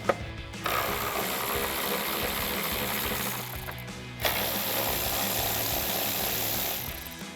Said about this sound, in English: Let's grab an 8mm socket and get those bolts out first.